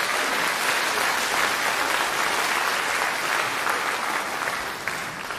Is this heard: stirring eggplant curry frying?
no